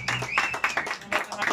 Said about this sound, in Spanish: Un aplauso bonito.